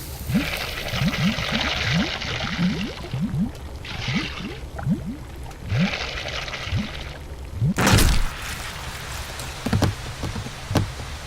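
Water simmering in a pot in a fantasy adventure game, heard as a steady bubbling, dripping patter with small pops, moderately close, broken by a brief louder splash or clatter partway through, no talk.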